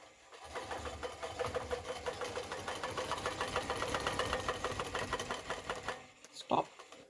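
A sewing machine quilts a quilt in a fast, even mechanical chatter of rapid needle strokes, close and steady for about six seconds before stopping, followed by a brief clack.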